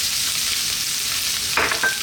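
Onion tossed into a pan of ginger sautéing in oil, a continuous close sizzle with a brief louder crackle and stirring scrape near the end.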